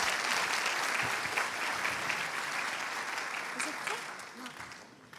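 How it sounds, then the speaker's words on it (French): Enthusiastic applause from a concert audience, dense clapping that stays strong before gradually tapering off. "Vous pouvez l'applaudir très fort, quand même"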